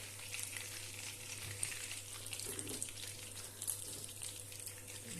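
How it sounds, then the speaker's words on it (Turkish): Fat melts in a hot pan with a soft, steady sizzle and crackle, quiet and continuous, with no talking. "Yağımızı eritelim. İyice erisin."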